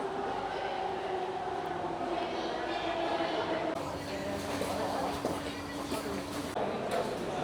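A Singapore MRT metro train rumbles through a station at night, a continuous low roar with a faint hum and shifting rail noise, while people talk in the background.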